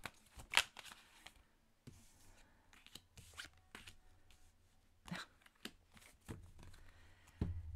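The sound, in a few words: shuffling tarot cards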